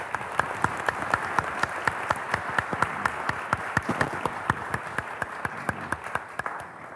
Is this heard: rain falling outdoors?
no